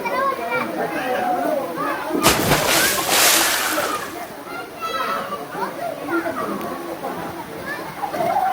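Children bathing in a pool, playful shouts and chatter with a burst of loud splashing in the middle, then lighter sloshing as the kids keep talking and laughing.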